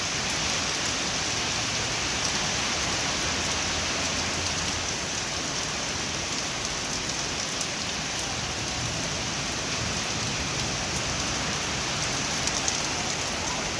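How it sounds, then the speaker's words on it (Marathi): Dense, constant monsoon rain pours down, the season's first heavy downpour, a loud unbroken hiss of drops striking surfaces throughout, with no voices or other sounds standing out. "पहिल्यांदा पाऊस चालू झालेला आहे पहिला पाऊस"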